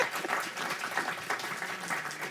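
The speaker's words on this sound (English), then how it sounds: "let's give a round of applause to Michael and Aaron" An audience at a Brookings AI event applauds two speakers, a dense, steady round of clapping from many hands, close and continuous throughout.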